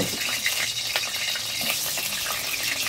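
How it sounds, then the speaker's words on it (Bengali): Potatoes fry in hot oil in a wok over an outdoor wooden stove, a steady broadband sizzle holding at an even level throughout, close by and with no voices. "তেল দিয়ে দিচ্ছি, আলু ভেজে নেবো এবার।"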